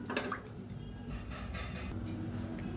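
Water poured into washed toor dal while making a Tamil kuzhambu, about three cups in all. It gives a continuous close liquid pour and slosh with a small splash at the start and no speech.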